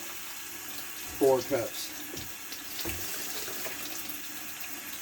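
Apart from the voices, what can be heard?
rinsing food under running tap water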